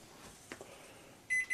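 Kitchen oven timer for a prime rib roast gives two short, loud electronic beeps near the end, after a quiet stretch with a few soft clicks.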